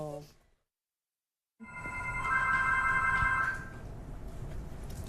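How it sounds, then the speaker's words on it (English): A telephone rings steadily and fairly loudly for a couple of seconds after a brief silence, its trilling tone sitting over broadband background noise, with a short bit of voice at the very start. "I can hear the phone ring now"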